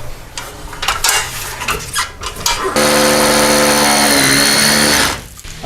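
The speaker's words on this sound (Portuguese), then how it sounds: "Acabei de fazer o furo por onde vão passar os eletrodutos" A power drill bores a hole through a wall to route electrical conduit, running loud and steady for a few seconds after some clattering handling, then cutting out.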